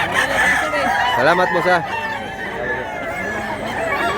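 A rooster crows clearly among other chickens at a market where fowl are brought for sale, with clucking and general crowd noise around it and a brief spoken phrase over the scene.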